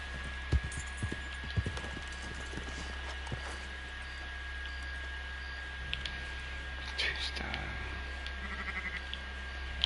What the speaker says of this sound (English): There should be a heap of 3-star sheep and stuff.